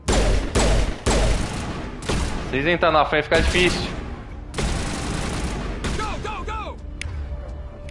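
Rapid bursts of gunfire from a Mass Effect firefight crack in loud, close volleys separated by short gaps, mixed with game effects and someone talking over the shooting.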